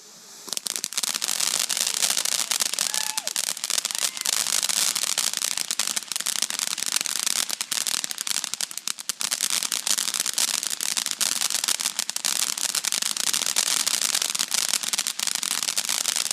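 A Dragon Tears firework goes off, a dense, continuous crackling and popping that stays loud and steady for many seconds after a quiet start, with a few brief dips.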